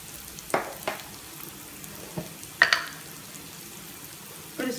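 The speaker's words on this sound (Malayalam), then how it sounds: "നന്നായി മസാലകൾ നന്നായി മൂത്ത് വരുന്നത് വരെ ഇളക്കി കൊടുക്കാം." Turmeric, chilli and coriander powders frying in a pan for a fish curry, with a soft low sizzle broken by a handful of sharp scraping stirs spaced irregularly, fairly close and quiet with no talk.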